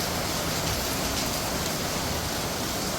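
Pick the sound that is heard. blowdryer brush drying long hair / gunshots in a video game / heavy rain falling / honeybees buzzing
heavy rain falling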